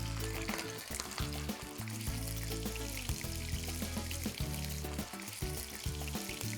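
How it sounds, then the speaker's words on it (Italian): Meat browns in a pan for brasato al Barolo, a soft, continuous sizzle running quietly beneath steady background music. "Dovrò rosolare per qualche minuto su ogni lato."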